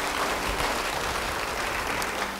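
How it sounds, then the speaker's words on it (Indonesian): Applause from a church congregation fills the space as a dense, steady wash of clapping, fairly loud and unbroken, with no speech over it. "Beri tepuk tangan bagi dia."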